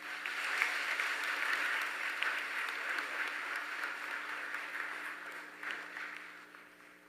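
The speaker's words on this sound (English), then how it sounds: "A round of applause, please." A graduation audience at Clifton Hunter High School applauds in a large hall, with dense, somewhat distant clapping that rises quickly, holds steady and then slowly tapers off.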